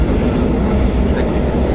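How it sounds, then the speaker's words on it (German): A train rumbles past beside a riverside cycling route along the Moselle, a loud, steady broadband roar filling the short moment with no break. "jetzt dieser verschissene Zug auch vorbei."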